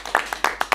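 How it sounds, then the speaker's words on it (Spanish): Audience applause at a live talk event, heard as a few scattered, separate hand claps rather than a full ovation, each sharp and brief, with gaps between them and no voices over them. "dejame un aplauso para el Juaco"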